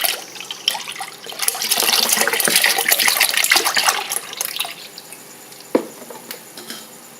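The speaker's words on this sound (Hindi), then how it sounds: "सबसे पहले एक पैन में दूध डालेंगे" Milk pours steadily into a pan in a close, bright liquid gush that thins to a trickle and a few drips near the end, with no talk.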